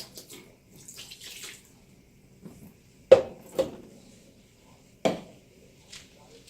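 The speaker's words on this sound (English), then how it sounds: "Take a cup, about a cup of vinegar, and pour it all over my dishwasher." Vinegar is poured and splashed inside a dishwasher, making soft liquid sloshes with a few sharper knocks against the interior, close by in a quiet kitchen.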